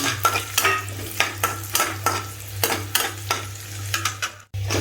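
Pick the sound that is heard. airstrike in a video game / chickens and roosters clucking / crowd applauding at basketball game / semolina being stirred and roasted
semolina being stirred and roasted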